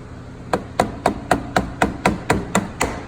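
A hammer pounding a DuPont Hyfax slider with Vespel inserts onto a Ski-Doo Gen 4 snowmobile rail: about ten evenly spaced sharp knocks, close and steady, with no talking.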